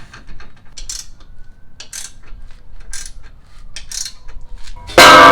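A ratchet tightens bolts while a hitch is installed on a Jeep JL, giving a steady run of close, fast clicking strokes, and a loud burst of noise lands at the very end.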